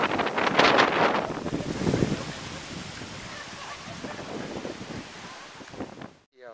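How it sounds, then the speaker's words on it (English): Strong wind buffets the microphone on the Nantucket, Massachusetts waterfront during Hurricane Irene, a loud, continuous roar with gusts that swell and ease, briefly cutting out at the end. "the wind is still whipping around"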